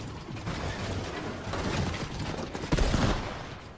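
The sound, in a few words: Chaos Reloader shotgun reloading in a video game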